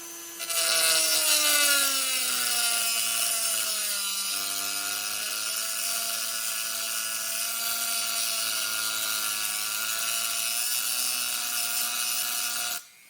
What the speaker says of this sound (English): we're gonna take our Dremel with cutting wheel, go ahead, put it about half speed